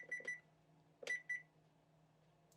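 A digital kitchen timer beeps as it is set while baking heart cake pops: two quick double-beep pairs, a pause, then two more, close and clear in a quiet kitchen.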